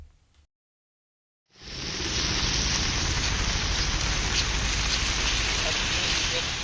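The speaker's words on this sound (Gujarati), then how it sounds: "અવિરત વરસાદથી ખંભાળિયામાં જળબંબાકાર." Heavy, continuous rain pours down in Khambhalia, Gujarat, during flooding. After a second of silence, a loud, dense, even hiss of rainfall starts and holds steady to the end.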